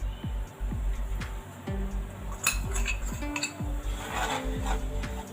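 Semolina is stirred in a pan while being roasted for sweet kesari, giving repeated close scrapes and light metallic clinks of a spoon against the pan in a loose, ongoing rhythm over a steady background.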